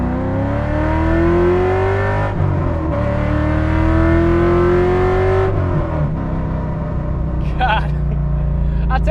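A C5 Corvette launches with wheel hop, its engine note climbing in a loud, close rev, dipping briefly, then climbing again before falling off into choppy, uneven rumbling.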